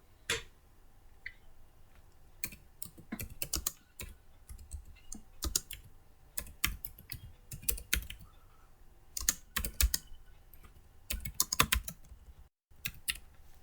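Typing on a computer keyboard while entering a comment in Microsoft Word: irregular bursts of close, crisp key clicks over roughly fourteen seconds, with brief pauses between words and no speech.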